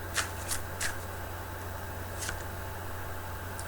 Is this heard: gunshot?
no